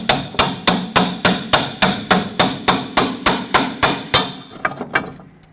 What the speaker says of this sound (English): Take a hammer, and while you wiggle this,